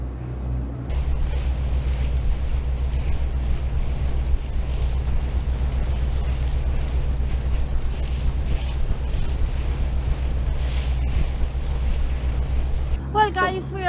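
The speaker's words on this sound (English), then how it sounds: "This is December boating, and that's the marina we're just leaving." A boat cruises away from a marina on a December outing, its engine giving a continuous low rumble under steady wind buffeting and water wash, with a brief voice at the very end.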